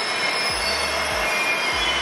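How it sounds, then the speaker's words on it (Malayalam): Moroccan ONCF high-speed train on the Casablanca to Marrakesh line rumbling steadily close by, with repeated low wheel thumps roughly every half second under a continuous broadband rail roar. "ONCF എൻജിൻ കോച്ചുകൾ."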